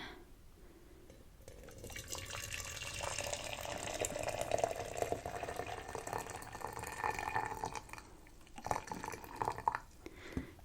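Water runs from a tap into a container with a gentle, continuous splashing fill that swells and wavers, a few soft knocks and clinks near the end, close and fairly quiet.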